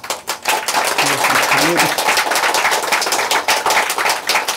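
Dense, steady applause from an audience at a Buddhist dharma talk in a US temple hall, many hands clapping at once for several seconds, with voices speaking over it.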